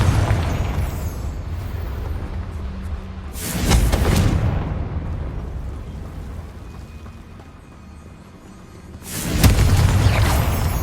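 Two heavy explosive blasts of the Confringo spell cast in the fantasy video game Hogwarts Legacy, one early and one near the end, each a loud booming burst over a steady rumbling game soundscape.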